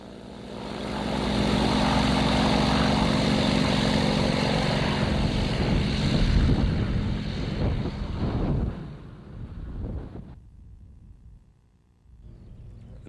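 A Yak-52 propeller aircraft flying in the UK, its engine droning steadily and loudly with buffeting wind noise, then fading and dropping off sharply toward the end.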